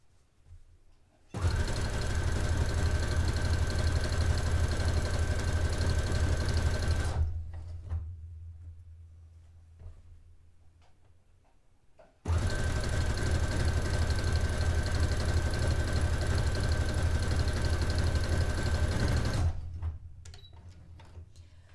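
A domestic sewing machine stitches fabric for a dress in two long, steady runs of about six seconds each, with a quieter pause between them when the needle stops and the fabric shifts.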